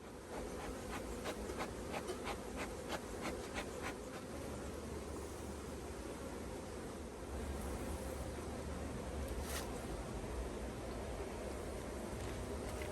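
Honeybees buzz steadily around an opened hive while frames of brood are handled, a dense, close insect drone with a few brief rubbing and clicking sounds and no talking.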